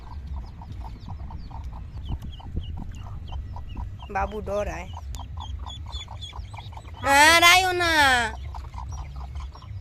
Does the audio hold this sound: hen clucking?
yes